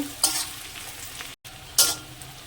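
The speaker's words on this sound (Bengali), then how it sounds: "পেঁয়াজ থেকে আমি একটু হালকা করে ভেজে নেব" Chopped onions frying in a pan for a fish roe fritter recipe, a steady close sizzle broken by two bright scraping stirs and a very short gap.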